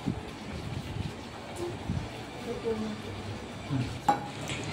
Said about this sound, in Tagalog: baliktarin natin yung tilapia guys.